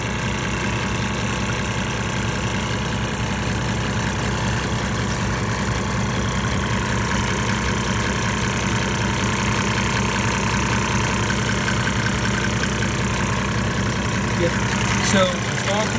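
A diesel engine treated with Diesel Purge idles steadily and loudly up close, a continuous low rumble with a faint knock running through it, and a brief clink near the end.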